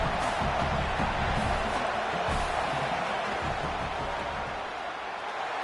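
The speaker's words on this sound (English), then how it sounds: "This crowd trying to do its part to get inside the kicker's head." Dense, steady roar of a football stadium crowd as a field goal attempt is set up, a broad wash of voices holding at full level with scattered louder shouts rising out of it.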